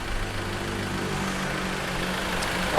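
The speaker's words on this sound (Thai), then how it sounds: "แล้วก็เครื่องยนต์นี่คือแบบ เดินเรียบๆนิ่มๆแบบนี้เลยนะครับ" A four-door automatic pickup truck's engine idles smoothly, giving a steady, even drone that holds close and constant for the whole stretch without knocks or rev changes.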